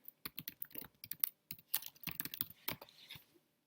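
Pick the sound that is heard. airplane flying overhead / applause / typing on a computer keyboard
typing on a computer keyboard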